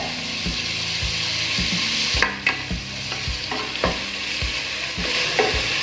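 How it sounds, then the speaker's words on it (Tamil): Onions sautéing with curry leaves and spices in a pan: steady loud sizzling and frying under repeated rhythmic scrapes and knocks of a spoon stirring, with no talk. "வெங்காயத்தை நல்லா வதக்கிக்கலாங்க."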